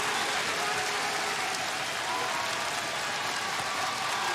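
A wrestling crowd cheering at an AEW event in Manchester, New Hampshire, a dense, steady roar of applause and noise from a large arena audience throughout.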